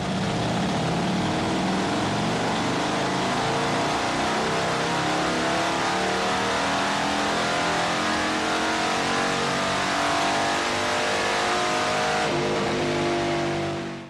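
Loud, continuous roar of a tuned Harley-Davidson engine running hard on a dyno, a dense throaty drone that rises and holds through the run before cutting off abruptly at the end.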